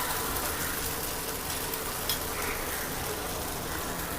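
Jowar uttappam batter cooking on a hot pan, a steady soft sizzle and frying hiss that holds evenly throughout without pause, no one speaking.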